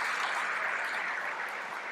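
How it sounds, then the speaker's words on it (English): Applause from the audience at a national Landcare awards ceremony honouring nominees, a steady, dense wash of many hands clapping that stays fairly even and moderately loud throughout. "Big round of applause for all our"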